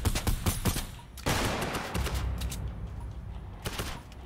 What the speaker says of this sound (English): I'm trying to shoot him.